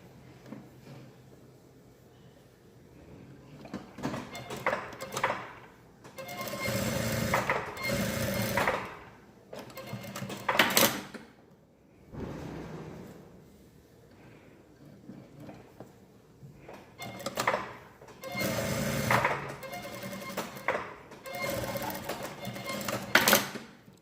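An overlock serger finishes the seams of a blouse, running in several loud bursts of rapid whirring separated by quieter pauses as the fabric is handled.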